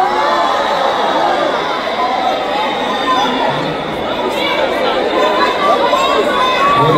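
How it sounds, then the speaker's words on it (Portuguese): An audience at a live show, a tribute concert, cheers and claps in a loud, dense crowd roar that holds steady throughout, with shouting voices mixed in. "aplauso, gente."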